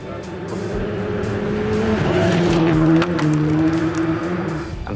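A race car, with damage from hitting a rock, drives past with a loud engine that holds a steady droning pitch, then rises and dips as it shifts. It sounds close and continuous, with no talking.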